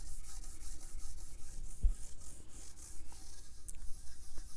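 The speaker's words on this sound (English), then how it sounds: "now I just kind of rub it in all over" Howard's Wood Polish and Conditioner being rubbed by hand into a guitar fingerboard during fret preparation; a soft, continuous, faint rubbing and swishing that carries on steadily, with no voices.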